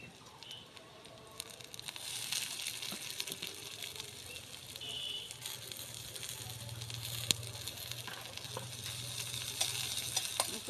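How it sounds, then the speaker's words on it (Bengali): Banana, two garlic cloves and chopped onion fry together in a little oil, a continuous hissing sizzle with faint stirring scrapes, fairly quiet and close, with no talk. "একটু ভাজা ভাজা করে নেবো সব একসাথে"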